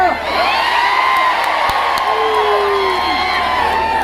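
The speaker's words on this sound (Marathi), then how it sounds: "पंढरपूरची तुला गर्दी बघायची होती ना" A large crowd at a political rally in Pandharpur cheers and whoops continuously, loud and dense, with a few sharp shouts rising above the steady roar.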